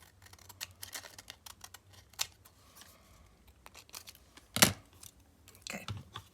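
Scissors snipping through an item along a marked line, a run of small quiet clicks and crisp cuts with one sharper snip near the end, close and alone.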